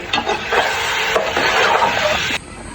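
A chickpea pulao mixture with chopped green chillies is stirred in a pot, making a loud, close, continuous sizzle and scraping that stops abruptly just before the end.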